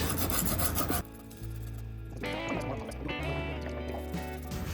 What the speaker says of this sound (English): come in here now with a little bit of sandpaper. This is some 240 grit. I'm just gonna wrap it on this file and just try and smooth it out